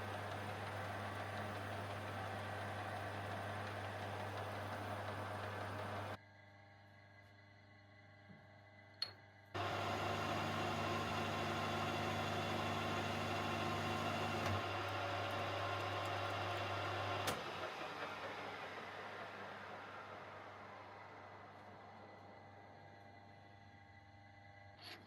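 Lathe parting tool cutting off a metal workpiece: a steady motor hum with a low drone, a brief drop and a click midway, then a resumed whine that slowly fades toward the end.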